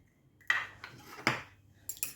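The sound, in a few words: beating an egg in a bowl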